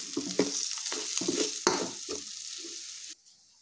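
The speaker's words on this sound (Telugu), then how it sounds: "తర్వాత కారం, తగినంత సాల్ట్ వేసుకొని కలుపుకోవాలి" A spoon stirs chili powder and salt into egg gongura curry in a pan, making rhythmic scraping strokes over a soft sizzle that stops abruptly near the end.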